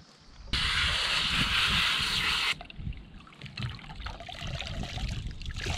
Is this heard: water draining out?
yes